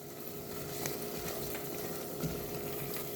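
Tomato paste frying in oil for jollof rice, a soft, steady sizzle with faint crackles, low and continuous with no talk.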